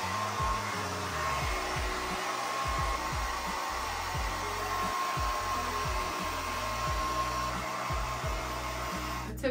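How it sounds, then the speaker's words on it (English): A hair dryer blows steadily at close range, a constant loud whooshing roar that holds for the whole stretch and cuts off abruptly at the end. "I always blow a fuse whenever I blow dry my hair in the mornings"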